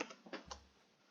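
A computer keyboard being typed on, a few quick soft clicks at the start, then a thin quiet tail.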